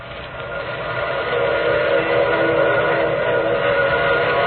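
A steam train pulling into a station in an old-time radio drama, its whistle sounding as a sustained, loud tone over the rumble and clatter of the approaching train, growing louder as it arrives.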